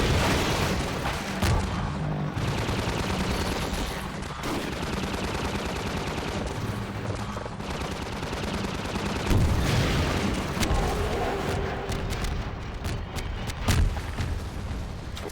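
Dense gunfire with booming explosions in Half-Life 2 during a squad firefight, continuous rattling bursts and heavy thuds, loud throughout with no talk.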